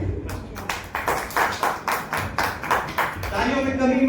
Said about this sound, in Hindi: पहले ग्रुप के लिए तालियां